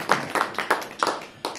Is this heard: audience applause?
yes